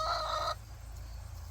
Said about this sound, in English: But these chickens here, these are my older ones